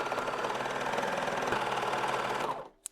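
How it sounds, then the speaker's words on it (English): A serger or sewing machine runs steadily, stitching the curved crotch seam of patchwork sweatpants. It produces a continuous close mechanical whir for over two seconds, then stops, followed by a single small click. "thread it into your serger or your sewing machine, and then serge or sew around"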